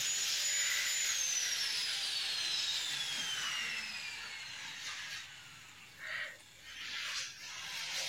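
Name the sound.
bathroom pipe being cut with a power tool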